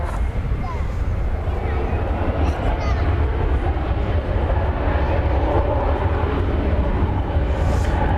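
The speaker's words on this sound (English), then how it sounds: "We've got another flight from Los Cabos, another popular destination. It's an Airbus A321." An Airbus A321 jet airliner arrives from Los Cabos at Dallas Fort Worth airport, heard as a continuous, broad, rumbling jet roar at moderate distance that holds steady throughout.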